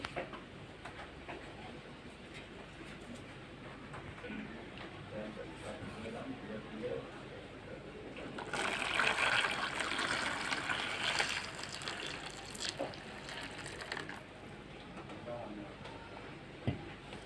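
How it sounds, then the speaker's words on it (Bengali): Hot water that was heated beforehand is poured over four lemons being readied for pickle. A soft, rushing pour swells midway and lasts several seconds over a faint, steady background. "এখন এই লেবুতে আগে থেকে গরম করে রাখা পানি ঢেলে দেবো"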